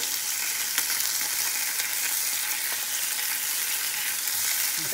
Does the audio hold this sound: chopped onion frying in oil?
yes